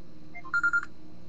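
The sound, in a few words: telephone ringing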